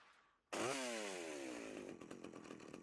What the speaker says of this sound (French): Attends, je peux rentrer avec la tronçonneuse.